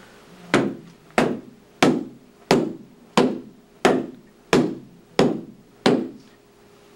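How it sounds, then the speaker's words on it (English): A hammer strikes ArmorLite lightweight roofing material nine times in a steady rhythm, each a loud, close, sharp whack with a short ringing decay, with no talking. "Watch this with this hammer."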